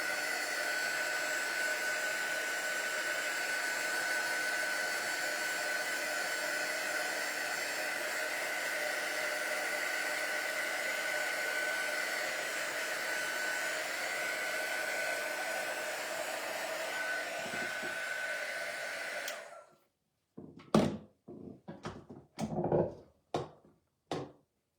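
A hair dryer blows steadily and loudly for about twenty seconds while drying a watercolour and bleach portrait painting, then cuts off abruptly, followed by a few short sharp knocks and handling sounds.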